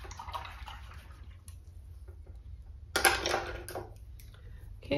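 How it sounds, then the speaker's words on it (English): An acrylic paintbrush is rinsed in water, giving faint swishing and dripping with a short, brighter splashing burst partway through, all at low volume. "I'm gonna rinse my brush out"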